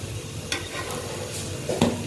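Masala bread slices, just flipped, fry quietly in a pan with a soft continuous sizzle and a few light scrapes.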